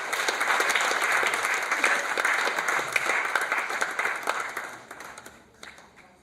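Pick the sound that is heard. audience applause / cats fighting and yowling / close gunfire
audience applause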